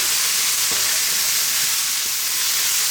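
Chicken and potatoes sweat with thyme in a pot, giving a steady close sizzle and frying hiss that continues unbroken with faint small pops.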